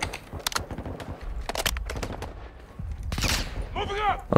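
Gunfire in Call of Duty: Modern Warfare 2, with bursts of rapid shots and scattered single cracks mixed with other game noise, plus a brief warbling tone near the end.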